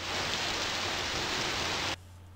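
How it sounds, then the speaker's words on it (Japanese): Heavy rain pours steadily in the video game Mind Zero, a dense continuous hiss that cuts off abruptly near the end, leaving a faint low hum. "嫌な雨っすねまったく"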